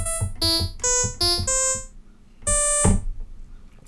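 A harsh, noisy synthesizer patch built in Alchemy within Logic Pro plays several short bright buzzing notes in quick succession, a pause, then a longer sustained note, loud and alone.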